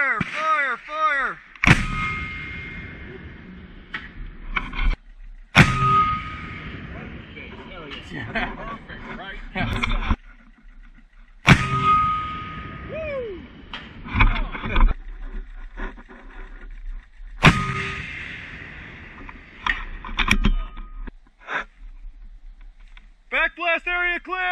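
An M3E1 MAAWS recoilless rifle fires during military training at Fort McCoy, with several sharp, very loud blasts spaced a few seconds apart, each followed by a rolling echo, amid shouted commands and talk.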